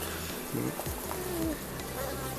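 Honeybees buzz steadily around an open hive during a midsummer inspection, a dense close hum with a few louder passes of individual bees. Faint birdsong sounds in the background.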